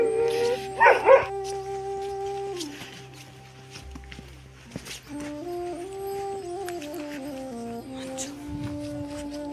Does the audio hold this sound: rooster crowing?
no